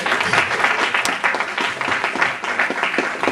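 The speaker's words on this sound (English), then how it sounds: "Can y'all clap for that?" A live audience claps together at a talk, a dense, steady wash of applause that fills the room from start to finish with no voices on top.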